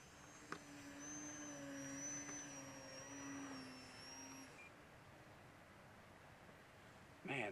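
An E-Flite Eratix 3D flat foam RC plane's electric motor whines at full throttle, a faint, thin steady tone that fades away midway, leaving quiet outdoor noise.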